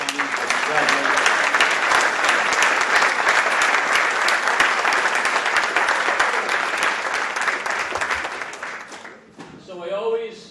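Sustained, enthusiastic audience applause for athletes at a college signing day event at IMG Academy, dense clapping that gradually thins out, followed by a voice.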